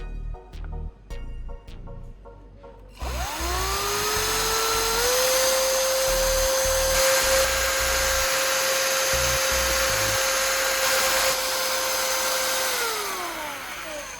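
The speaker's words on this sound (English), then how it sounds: "And I quickly lock everything securely into the chuck of the electric drill, ready to perform and amaze with its efficiency." Electric drill spins improvised blades stirring silicone and thinner: a few clicks, then a high whine that ramps up, holds steady and close for about ten seconds, and winds down.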